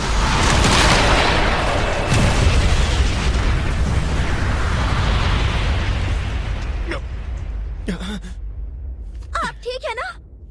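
A Wind Blast attack effect from an anime, a loud roaring whoosh that gradually fades over several seconds, followed by short spoken exclamations.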